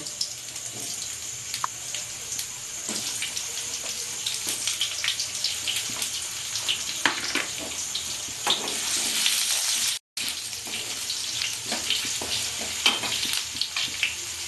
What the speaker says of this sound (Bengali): কালো জিরাটা ফুটে গেছে প্রথমে আমি আলুগুলো দেব